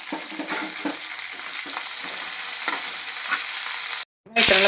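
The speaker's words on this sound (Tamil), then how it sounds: "நல்லா பொன்னிறமாக வதக்கணும்." Sliced onion sizzles in hot oil with curry leaves and coriander for a cauliflower chicken gravy, under a steady frying hiss with regular stirring scrapes and a brief pause near the end.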